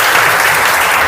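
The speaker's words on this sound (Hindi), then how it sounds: "एक बार और ताली बजाइए।" Brief, dense audience applause fills the room, loud and continuous for about a second.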